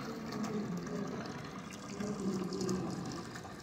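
Water runs steadily from a hose hooked up to a sink during hand-washing of clothes in the Philippines, a continuous close splashing rush with no talk.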